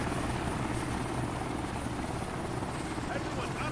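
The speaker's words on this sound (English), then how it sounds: "Everyone, out of the chopper" A military helicopter in the game ARMA 3 drones with a loud, steady rotor and engine roar close by, continuous throughout, with voices heard over it.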